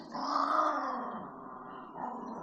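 Dogs growling and snarling at each other in a scuffle, a continuous throaty rumble with raised, strained tones, fairly close and loud, easing slightly before flaring up again near the end.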